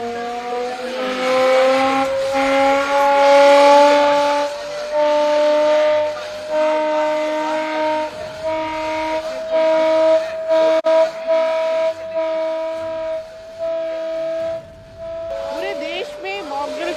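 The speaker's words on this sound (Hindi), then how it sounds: "इस तरह से सायरन बजाया जा रहा है।" Civil defence siren sounding during a mock drill rehearsal in Lucknow, a loud, steady wail that slowly rises in pitch across the whole stretch, with faint background noise beneath it.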